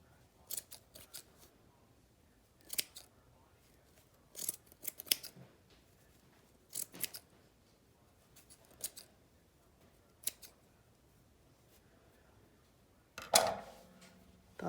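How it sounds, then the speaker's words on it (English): Scissors snip through the string loops of a handmade Galentine's Day garland in a quiet room, with short crisp cuts coming one or two at a time and irregular pauses between them, and one louder snip near the end. "And then you just need to cut all of the loops."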